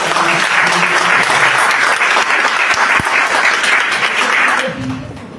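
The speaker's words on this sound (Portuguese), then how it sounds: "Então a gente também gostaria de dar uma salva de palmas." Audience at a talk on women, money and investing gives a round of applause, a full, steady burst of clapping that tapers off near the end as a voice begins.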